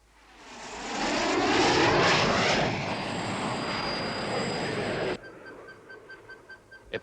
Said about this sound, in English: A plane of some kind.